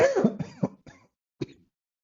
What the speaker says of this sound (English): Oh, excuse me, I'm coughing.